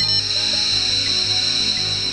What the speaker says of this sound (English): That's the sound of the PC's digital ones and zeros being converted into the analog frequencies the phone